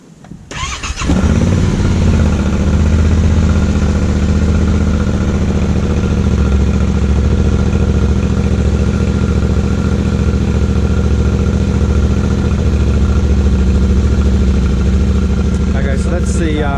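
A Yamaha Tenere 700 motorcycle with its stock exhaust fires up, then settles into a loud, steady, close-up idle lasting many seconds.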